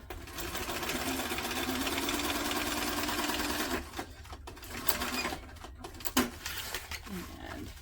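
A sewing machine runs steadily stitching a tote bag for about four seconds, then stops and gives way to quieter handling noises and brief clicks.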